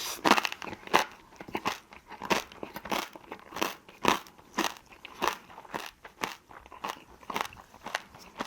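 Someone chews crunchy scorched rice (nurungji) with salad close up, making steady loud crunches roughly twice a second with crackly texture, and no talking.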